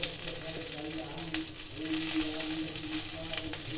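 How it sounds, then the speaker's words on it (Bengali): Whole spices such as black cumin frying in hot oil in a pan for a Bengali Katla fish curry, a steady soft sizzle with faint stirring scrapes and no talking. "এগুলো একটু ভেজে নেব।"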